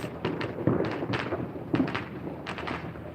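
Neighborhood Fourth of July fireworks heard from a front yard in Las Vegas: a series of irregular distant pops and booms, several bursts landing close together, ringing out over a constant outdoor background with no one talking.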